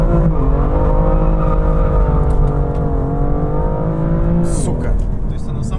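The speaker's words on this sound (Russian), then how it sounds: "Я просто нажимаю газ в пол." BMW M2 with an automatic gearbox launching at full throttle, the engine note rising steadily in strong harmonics and dipping with gear changes, loud and close inside the car while people talk over it.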